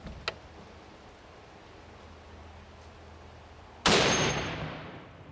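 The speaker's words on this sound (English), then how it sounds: "Shoots a 50 BMG, kind of a big bullet." A Barrett .50 BMG rifle fires at a titanium target, one sharp, loud report with a ringing, decaying tail after a quiet lead-in that has a small click near the start.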